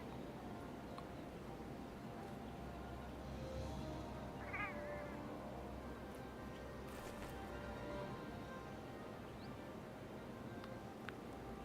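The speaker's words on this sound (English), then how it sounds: "Mess around with my little kitty cat." A pet cat meows once or twice, short and fairly faint, against a steady wash of background hiss and low room noise.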